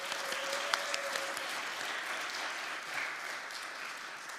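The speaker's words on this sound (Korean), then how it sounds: "저희 소울소리 반 단원들 위해서 다시 한번 큰 박수 부탁드립니다." An indoor audience applauds performers after a Korean pansori folk song at a traditional music concert, a dense, even clapping that holds steady for several seconds without talk.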